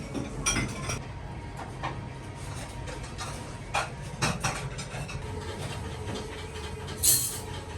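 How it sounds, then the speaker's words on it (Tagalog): A train bound for Chiba, Japan, heard from on or beside it: a steady low rolling rumble with scattered clicks, clinks and brief metallic squeals, no talking. "Train bound for Chiba."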